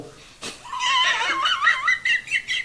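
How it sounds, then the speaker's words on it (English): A toy plays a recorded horse neigh, a loud, close, high wavering whinny that trembles and falls over about two seconds after a brief click, with no voices. "Horse, gallop away"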